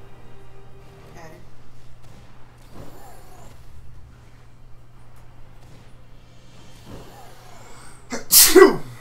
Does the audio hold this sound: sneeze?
yes